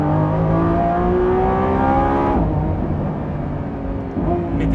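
Lamborghini Revuelto hybrid V12 engine revs up and holds a loud, rising roar, then drops off abruptly around the midpoint and sits at a lower idle-like hum before a brief second blip.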